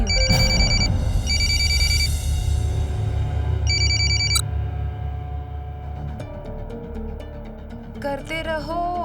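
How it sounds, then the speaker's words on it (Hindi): A phone rings with repeated bursts of an electronic ringtone, starting loud and stopping partway, over steady background music and faint voices. "गुंजन प्लीज मेरा फोन उठाओ, नहीं तो मैं वहां आ जाऊंगा।"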